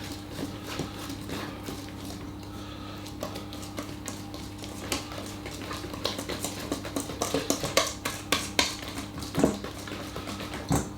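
Chocolate sponge cake batter is worked with a whisk in a bowl, giving a quick irregular run of clinks and taps against the bowl over a steady low hum, growing busier toward the end.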